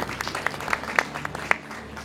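Sparse, moderately distant audience clapping at a French sports event team introduction, a handful of distinct claps in an uneven rhythm rather than a full ovation.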